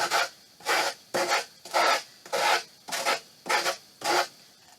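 Sandpaper rubbing back and forth along the edges of a homemade picture frame, about nine even rasping strokes in a steady rhythm, close and clear with no talk.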